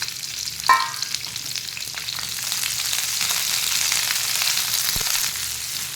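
Sliced onion and capsicum dropped into hot oil, a sharp burst of sizzling followed by a steady, close frying hiss with a faint stirring knock near the end.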